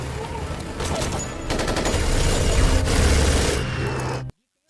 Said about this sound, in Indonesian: Di tengah asik tembak-tembakan